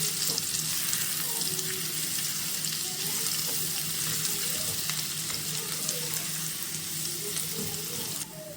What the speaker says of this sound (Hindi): लहसुन जो है इसको शामिल करेंगे और इसको थोड़ा सा हम सौटे कर लेते हैं।